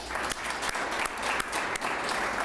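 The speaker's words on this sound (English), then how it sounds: "How about another round of applause for the mayor?" Steady, dense applause from a conference audience honoring a mayor at a Conference of Mayors small business award event, filling the short stretch at an even level with no pause.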